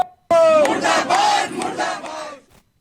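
Congress committee protesters at a street demonstration in Sitarganj, Uttarakhand, chant a slogan together as a crowd, loud and close, rising and falling in a rhythmic shout for about two seconds before stopping.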